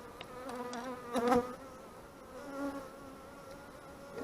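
Honey bees buzz around a beehive, a faint steady drone with a few individual bees swelling louder as they pass close, no voices.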